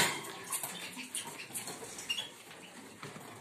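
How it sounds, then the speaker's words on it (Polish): Soapy solution is sprayed from a spray bottle onto canary cages as a soft, irregular hiss of short, close spritzes with faint wet patter. No one speaks. "Naleję wodę do spryskiwacza i takim roztworem spsikuję klatki."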